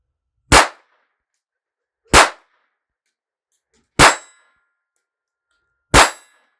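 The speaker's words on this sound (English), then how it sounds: "that one chambered 5 shots at the target, steel target with the Aguilas" Four separate shots from a 1959 Beretta 950B pistol firing .22 Short Aguila rounds, each a sharp crack with a ringing clang off a steel target, spaced about two seconds apart with silence between.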